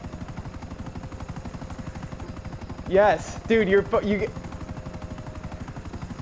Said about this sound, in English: Chris just got hit by that chopper.